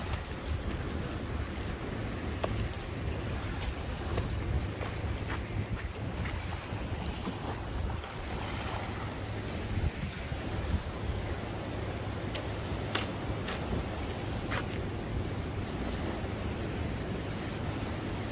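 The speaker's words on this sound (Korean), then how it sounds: "바깥쪽으로는 파도가 높아서요." High waves wash and surge around a small Korean fishing harbor with boats moored nearby, heard as a continuous rushing roar under heavy gusting wind buffeting the microphone, with occasional sharper knocks and splashes and no voices.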